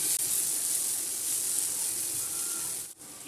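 Pumpkin pieces and turmeric powder stirred in a hot frying pan give a steady, close sizzling hiss that runs unbroken, with a brief dip near the end.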